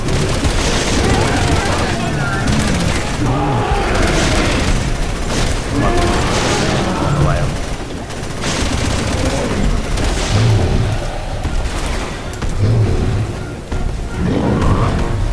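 Continuous booming gunfire from a mounted gun in Resident Evil 6 pounds away in dense, overlapping bursts under loud game noise, with a player talking over it.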